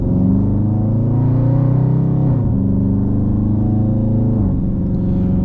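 A 2019 Dodge Charger R/T's V8 drones steadily from the driver's seat, its deep burble rising gradually and then dipping briefly at two gear changes before settling into a constant, close cruise.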